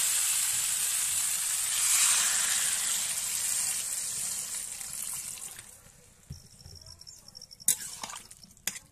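Water is poured into a curry of drumsticks being cooked, bringing a steady hissing sizzle that gradually fades into quiet bubbling with a few clinks near the end.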